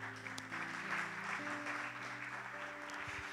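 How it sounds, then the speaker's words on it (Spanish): Steady crowd applause at a church service with sustained musical tones underneath, continuous for a few seconds at moderate loudness. "Dele un fuerte aplauso al Señor, por favor."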